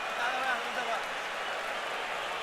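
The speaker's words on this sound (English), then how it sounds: "those cheers you hear in the background are fans cheering the blood on Mayweather" Boxing crowd at the Mayweather vs. Cotto fight, a dense wash of cheering and applause filling the arena, steady and fairly loud, with a voice talking over it.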